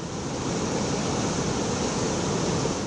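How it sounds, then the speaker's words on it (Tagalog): Strong, high surf pounds the shore at Gonzaga, Cagayan, during Typhoon Marce. A loud, steady roar of breaking water fills the whole clip, and no voices are heard. "Malalakas at matataas pang alon sa baybayin."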